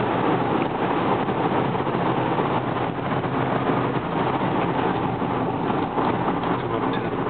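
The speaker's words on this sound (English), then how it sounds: "Vehicle handles really nicely and accelerates really nicely." A 2000 Cadillac Eldorado on a test drive gives a loud, steady interior roar of engine, road and wind noise while cruising, with no talk over it.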